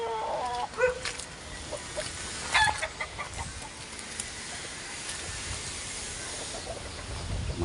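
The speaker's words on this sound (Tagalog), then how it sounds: "Marami tayong manok." Chickens clucking on a farm, scattered near and far clucks over a hissing background, with a few louder bursts.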